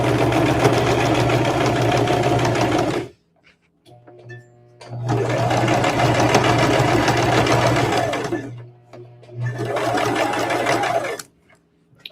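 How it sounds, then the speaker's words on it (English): Sewing machine stitching a rag bag's fabric in three long bursts of rapid, steady mechanical whirring, close and loud, separated by short pauses while the needle stays down and the fabric is pivoted. "So I'm going to sew it all the way up here to the end."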